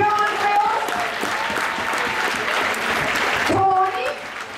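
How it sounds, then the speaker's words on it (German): Sustained applause from a crowd at a carnival performance in Schöneiche, dense clapping filling the whole stretch with a few voices and cheers mixed in, easing slightly near the end. "Also, ein herzlichen Applaus"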